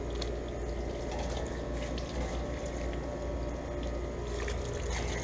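Garden hose spraying water onto a central air conditioner unit outdoors, a steady broadband hiss and splash running continuously at moderate level with no talk.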